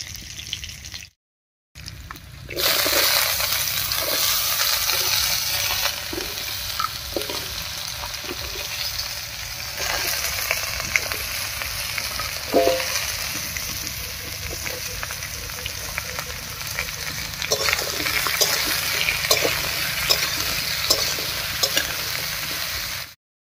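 Chopped mixed vegetables hit hot oil over a tempering of grated ginger and slit green chillies, then fry with a loud, steady sizzle. Stirring scrapes come through after a brief gap of silence near the start.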